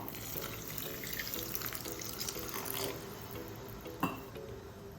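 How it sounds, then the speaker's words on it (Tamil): Water poured into a pan of cooking masala made with spice powders, onion and tomato, a steady close splash and trickle running throughout with a brief sharp clink near the end. "நூறு எம்எல் தண்ணி சேர்த்துருக்கேன்"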